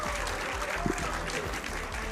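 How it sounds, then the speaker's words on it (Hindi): Applause from a studio audience welcoming a guest to a Hindi TV debate show, a steady wash of clapping throughout with a voice talking over it. "तालियों के साथ स्वागत कीजिए"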